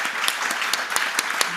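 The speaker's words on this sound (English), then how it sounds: "I would like to ask everybody to give our panellists a round of applause" Audience at a light rail seminar applauding the panellists, a steady dense patter of many hands clapping with a few sharper claps standing out, close and sustained throughout.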